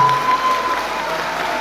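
An audience at a meeting with the Drozdy ensemble breaks into applause, a brief burst of clapping heard close, with a faint steady tone lingering underneath.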